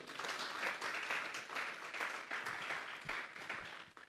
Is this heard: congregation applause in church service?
yes